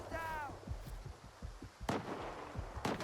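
Two sharp gunshots from STALKER 2: Heart of Chornobyl crack out about a second apart, loud and close, over a busy rumbling game background with faint footstep-like thuds.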